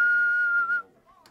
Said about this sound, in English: listen for the whistle